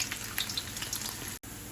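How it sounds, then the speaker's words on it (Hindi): Chopped garlic and ginger sizzle and crackle steadily in hot oil as a tadka for sarson ka saag, with a dense close frying hiss and a brief break near the end. "4 जवे जो हैं ये लहसुन के वो इसमें चॉप करके इसमें ऑयल में शामिल कर लेते हैं इसको और इसको हल्का सा ब्राउन करते हैं।"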